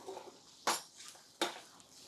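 A spoon knocks twice against a pot while coconut rice with salt is stirred, sharp metallic clinks with soft scraping between them, close and quiet.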